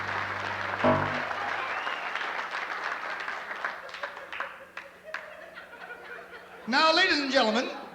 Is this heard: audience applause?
yes